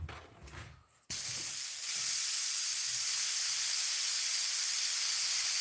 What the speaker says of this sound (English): Okay, I get the airbrush cleaned out.